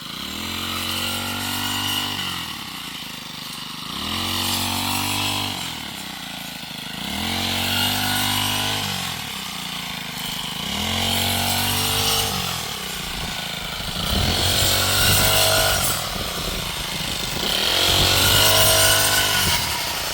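A brush cutter's engine revs up and down in repeated surges, roughly every two and a half seconds, as it cuts through rice stalks nearby in a paddy field; no talking.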